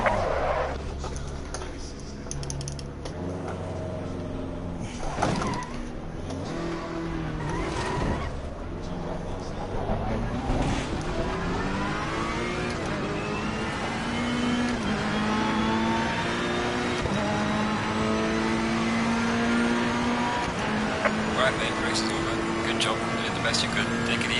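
A GT3 race car engine revs and shifts through gears at Suzuka in Assetto Corsa Competizione, a steady rising and falling whine close by, with someone talking over it.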